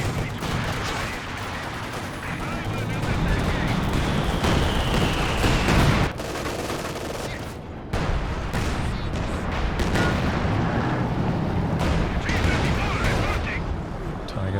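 Artillery and mortar fire in the World War II strategy game Company of Heroes 2, during a 2v2 match: dense, loud, continuous battle noise with overlapping booms and sharp shots, briefly thinning near the middle before building back up.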